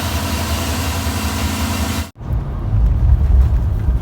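A car engine drones loudly and steadily from inside the cabin while driving along a rural highway. The low rumble dips briefly midway and then returns heavier and rougher, with no talk.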